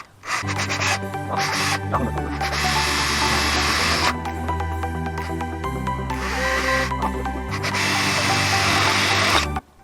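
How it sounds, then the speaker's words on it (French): A power drill bores mounting holes in a car roof for fitting an LED light bar, a loud steady motor whine running in long bursts with short pauses and pitch shifts as the bit bites into the metal. "Une fois que les 2 trous de perçage sont repérés, on peut donc commencer à percer."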